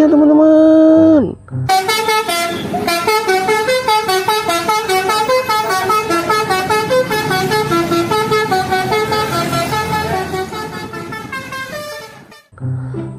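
A Sudiro Tunggal Jaya bus blasts its basuri horn, a loud, melodic multi-tone tune that plays on for about ten seconds after an opening honk, with a voice speaking at the start.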